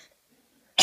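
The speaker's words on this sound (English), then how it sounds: "Got a cough" A single short, sharp cough bursts out loudly and close at the very end, after near silence, at an evening get-together.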